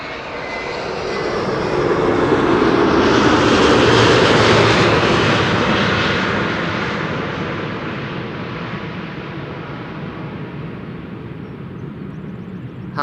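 Airbus A330neo jet arriving at Amsterdam Schiphol, a loud roaring engine rush that builds, peaks as it passes close, then fades into a long lingering rumble.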